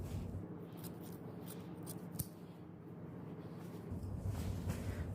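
Scissors trimming the fabric seam allowance at the neckline of a home-sewn dress, close and alone: a steady run of crisp snips and rustling cloth, with one sharper click midway.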